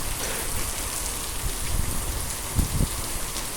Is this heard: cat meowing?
no